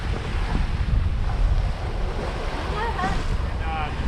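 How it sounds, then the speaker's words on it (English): Strong wind of 12 to 15 knots roars across a microphone aboard a sailing boat at sea, with rushing waves and water noise, loud and continuous, and a few faint tonal squeaks near the end. "about 15 knots. 12 to 15 knots of wind."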